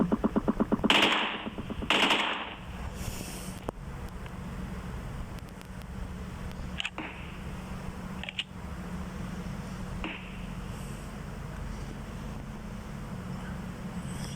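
PUBG gunfire rattles off in a few sharp close bursts early on, followed by faint, scattered distant shots over steady wind and ambient game noise with no talk.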